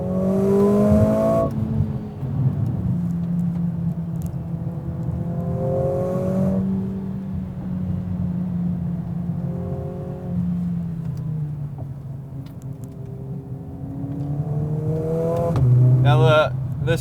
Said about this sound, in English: hate the fake audio all you want, the fake engine noise, but it sounds kind of cool